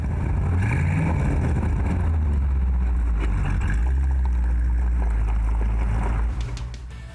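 A first-generation 1950s Ford Thunderbird V8 runs close by, giving a steady, deep rumble with a rising rev partway through, then easing slightly near the end.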